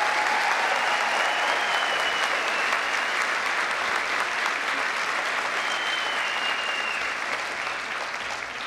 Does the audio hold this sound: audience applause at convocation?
yes